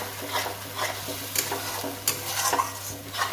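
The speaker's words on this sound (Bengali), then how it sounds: "এটা আমি ভালো করে কষে নেবো লবণ দেবো স্বাদ মতো লবণ দিলাম ভালো করে কষবো" Ground masala paste with salt is sautéed and stirred in a pan for paneer curry: close, soft sizzling under repeated spoon scrapes and light clinks against the pan, with no voices.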